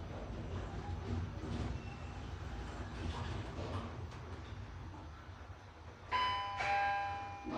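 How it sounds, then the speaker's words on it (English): Arrival chime of a glass StarLift/SJEC machine-room-less elevator at a hotel in Oslo, Norway: a clear two-tone ding-dong sounding near the end after a stretch of low, steady hum from the lift. "Ding dong."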